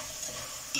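Food frying and sizzling in a pan while being stirred, a steady hiss throughout with a brief louder scrape near the end.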